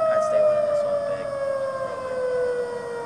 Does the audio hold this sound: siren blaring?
yes